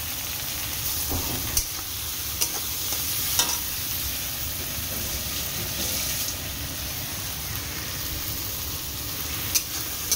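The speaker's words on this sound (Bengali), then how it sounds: "এটা রসুন, কাঁচা লঙ্কা আর একটা শুকনো লঙ্কা দিয়ে ভাজছি।" Steady crackling sizzle of garlic, green chillies and a dried red chilli frying in hot oil, with occasional sharper pops and a few light stirring scrapes; no talking.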